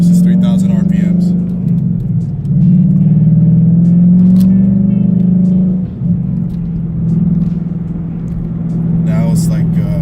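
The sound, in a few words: Mustang GT engine with Flowmaster Outlaw exhaust at 3,000 RPM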